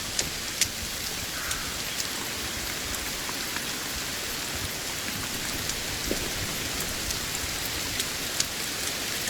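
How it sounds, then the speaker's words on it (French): Steady rain pours in the survival video game Sons of the Forest, a dense, even hiss of falling drops with faint scattered ticks, continuous throughout with no voices. "faut que je baisse l'audio de la pluie là"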